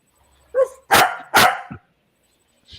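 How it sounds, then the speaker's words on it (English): A dog barks close by in three loud, sharp bursts, the first shorter and the next two heavier, then a faint fourth yelp trails off after a pause. "Hey, there's a doggy right there."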